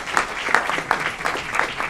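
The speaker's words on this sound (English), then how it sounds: "Round of applause for the team over there at the Aurora Fire Department." Attendees at an Aurora city committee meeting clap for the Aurora Fire Department team, a short burst of scattered, fairly sparse handclaps with a few sharp individual claps standing out.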